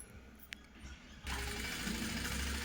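A Jack tailoring sewing machine starts up after a quiet second, then runs in a loud, steady, close mechanical whir with no break until the end.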